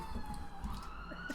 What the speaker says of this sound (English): There's an ambulance on its way for you, Michael.